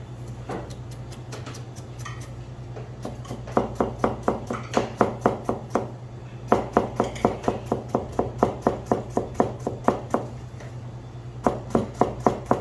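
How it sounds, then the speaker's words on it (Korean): A knife julienning vegetables for japchae chops rapidly and evenly on a cutting board in quick bursts of a dozen or so strokes separated by short pauses, close and crisp over a low steady hum. "이렇게 해서 채를 썰어 주시면 돼요"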